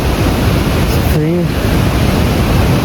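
A river and waterfall roar as a loud, dense, steady rush close by, with a short tonal voice-like sound briefly cutting in near the middle.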